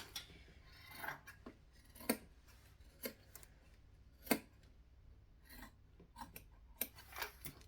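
Scissors snip through fabric lining for a travel tote in a series of crisp, separate cuts at irregular intervals, close and fairly quiet, with no talking.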